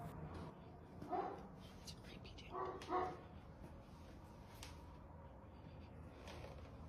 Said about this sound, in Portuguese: um cachorro pode ser ouvido latindo nervosamente ao fundo, claramente incomodado com o movimento estranho do balão